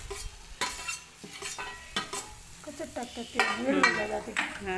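A spoon scrapes and stirs raw paneer with salt in a hot pan with a soft sizzle, in repeated close strokes that grow busier toward the end.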